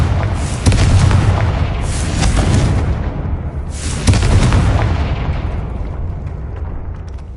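Confringo explosive spells go off in a Hogwarts video game as heavy, rumbling booms, with two big blasts followed by long rolling decays that fill the whole stretch.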